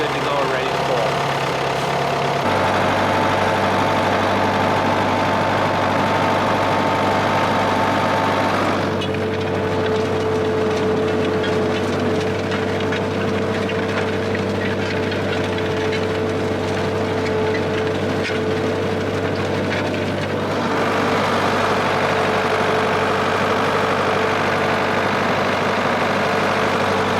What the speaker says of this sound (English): not the best starting tractor that we have here on the farm, but once it gets warmed up, it'll be good to go and ready to pull